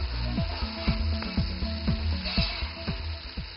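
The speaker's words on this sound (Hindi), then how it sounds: "फिर आप इन मसालों को भूनें" Whole spices (cinnamon, cloves, black pepper, red chili) frying in a pot, a steady close sizzle with rapid repeated scraping clicks of stirring throughout, no voice.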